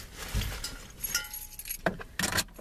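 Car keys jangle and clink close by in a few separate bursts as they are picked up and shaken before a drive to the store.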